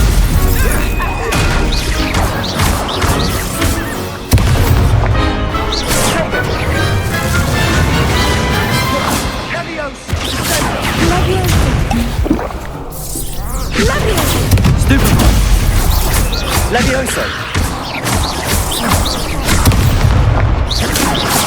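Spell combat in the Hogwarts Legacy video game at Goblin Tower: loud, dense spell blasts and booming explosions crash one after another, with short lulls between heavy bursts.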